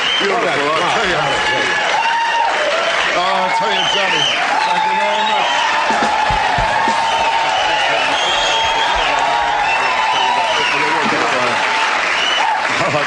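Studio audience at a comedy talk show applauding and cheering loudly and continuously throughout, a dense steady wash of clapping with someone talking over it.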